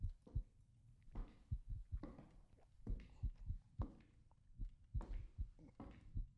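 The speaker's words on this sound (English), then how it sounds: "Why do I hear my heartbeat?" Heartbeat thumps in the horror video game Wrong Floor, a steady run of low double-pulsed beats repeating about once a second, moderately loud and alone with a faint ambient hum.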